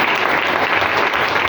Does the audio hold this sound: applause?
yes